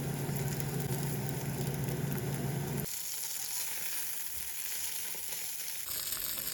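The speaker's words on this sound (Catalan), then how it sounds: "Punxem les botifarres i les daurem una mica també amb la ceba." Pork botifarra sausages browning with julienned onion in a hot pan, a continuous dense sizzle and crackle, close and steady, with a brief shift in tone partway through and no talking.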